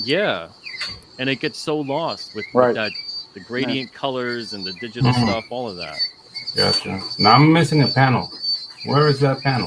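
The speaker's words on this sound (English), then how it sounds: "Oh no, that's cicada season here." Cicadas drone outdoors in a steady, thin, high-pitched buzz that runs unbroken beneath two people chatting loudly in the foreground.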